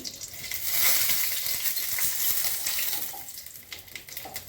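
Dried chillies, bay leaf and panch phoron sizzle and crackle in hot oil, a close, steady frying hiss with light popping throughout.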